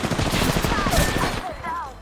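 Rapid, dense automatic gunfire rattles continuously in a video game, loud and close, with voices mixed in and a brief dip before the firing resumes.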